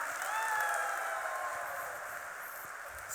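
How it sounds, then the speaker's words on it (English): Conference audience clapping louder on cue, a thick, sustained roar of many hands with a faint whistle or cheer early on, easing slightly toward the end. "Clap a little louder, make some noise."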